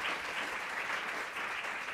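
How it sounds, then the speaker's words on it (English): Sustained applause from a conference audience welcoming a speaker, a steady dense wash of clapping at moderate level lasting the whole two seconds with no voices on top. "If you can all join me in please giving a round of applause for Mr."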